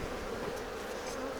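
A dense, steady buzzing of many honey bees at an open hive fills the short stretch, close and continuous with no voices.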